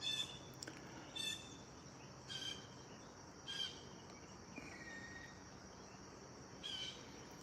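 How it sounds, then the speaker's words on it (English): Faint, distant robin song drifts over a quiet creek: short chirping phrases repeat about every second or so against a soft, steady outdoor background. "I hear an old robin saying,"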